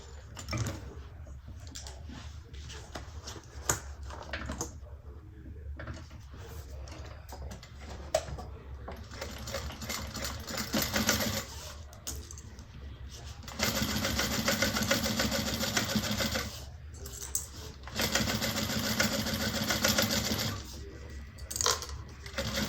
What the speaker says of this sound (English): we're going to sew this together at a 1/4 inch seam allowance